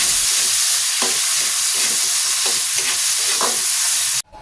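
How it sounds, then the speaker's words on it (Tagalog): Chopped tomato, onion and garlic sizzle steadily in a hot pan while being sautéed, with a loud continuous fry and a few spoon stirs and scrapes, until the sizzle cuts off abruptly near the end. "Igisa lang natin to ng maigi hanggang sa maluto."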